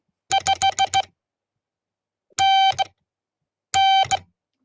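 Short, bright electronic tones beep out the Morse signal report 599: a quick run of dits, then two separate bursts of dahs and dits, clean against silence.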